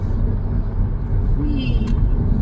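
A car on the road accelerates to cut in front of a truck, a loud steady engine rumble and road noise from inside the cabin, with a brief rising engine note midway.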